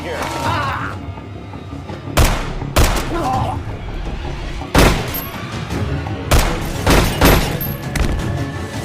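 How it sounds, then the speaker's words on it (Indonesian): Sharp gunshots crack out in irregular bursts, several loud reports spaced a second or two apart, with muffled thuds and background noise between them. "Dan aksi tembak-tembakan pun terjadi."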